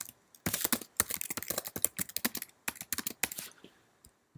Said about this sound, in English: I can type this out.